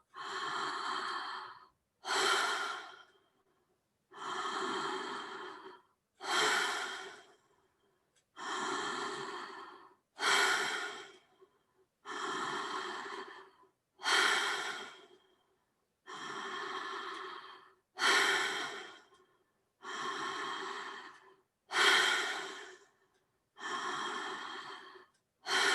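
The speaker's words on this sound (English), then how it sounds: "Right after your exhale, you're taking in another inhale." Slow, deep breaths during a breathing exercise, a regular cycle of airy inhales and exhales repeating about every two seconds, close and clear with no talking.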